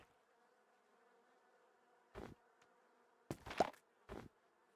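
Bees buzzing in Minecraft: short bursts of buzzing, one at about two seconds, then a louder cluster and a final buzz, set against a faint, steady background drone.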